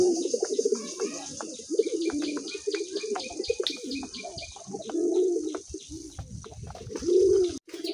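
A male Raj Golla pigeon coos in repeated rolling phrases close by, with soft chirps and a brief wing flutter among caged birds.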